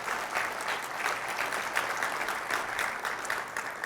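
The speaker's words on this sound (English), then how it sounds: "You're free to clap." Audience applause at a tech conference keynote in a large hall, an even, sustained patter of many hands clapping for a few seconds with no talk over it.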